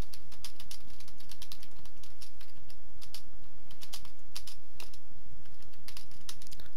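Rapid, uneven clatter of keys on a computer keyboard while code for a ComputerCraft Minecraft program is entered, close and steady throughout with no voices.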